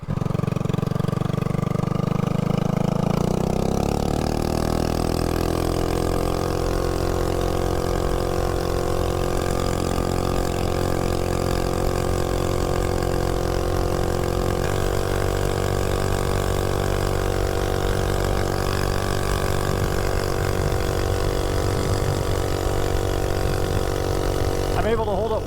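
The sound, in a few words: MB 200 mini bike with 196 engine at full throttle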